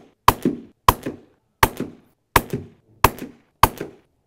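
A magazine fired through a small suppressor at 25 yards: seven evenly spaced, muffled gunshots, each a sharp crack with a short thudding tail, close and loud with brief silence between.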